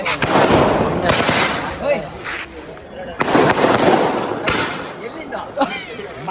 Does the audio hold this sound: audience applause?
no